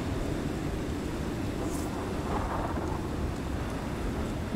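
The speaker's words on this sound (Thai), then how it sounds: "ฟ้าก็ผ่าอีก" Steady heavy rain and a deep rolling rumble of thunder in the survival game Icarus, a dense broadband wash throughout with no voices.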